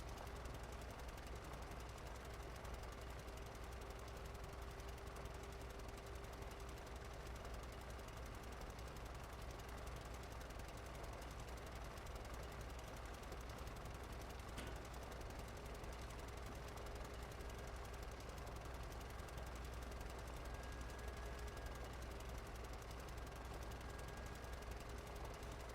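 A drilling machine in the video game Stormworks, drilling for fuel, makes a steady mechanical drone with rumbling low end and a rattling, churning texture, continuous and fairly loud throughout, running without pause.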